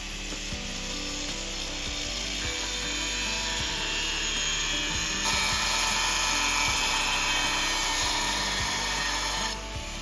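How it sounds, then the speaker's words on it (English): A power tool trims a vehicle bumper for more tire clearance, a loud, steady high-pitched whine with grinding texture that intensifies midway, close up and without talk. "Trimming the bumper to get a little bit more clearance on the tires."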